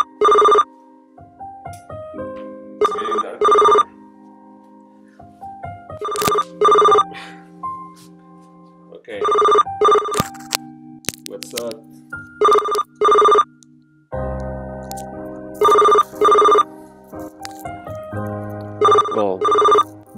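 A cell phone ringtone in Linda Brown: Interactive Story rings loudly and close in repeated electronic bursts with brief pauses between them, carrying on for about twenty seconds with no voices over it.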